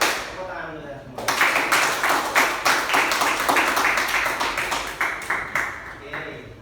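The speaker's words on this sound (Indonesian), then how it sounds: "Tepuk tangan dulu ya semua." A school class claps hands together in a series of sharp, rhythmic bursts, loud and near, following a brief spoken cue at the start.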